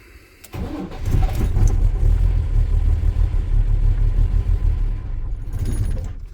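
A car with a diesel fuel problem starts up, idles with a rough low rumble for several seconds, then dies away, loud and close with no talk.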